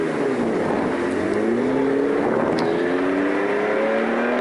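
A rally car launches from a stage start at the Kontiolahti Ralli 2023, its engine note climbing steadily through the gears, loud and close, with no voices heard.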